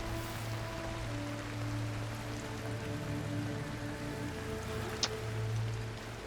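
Rain falling steadily in the mountain game Cairn, a soft continuous patter at low volume with faint tonal music beneath it and no talk.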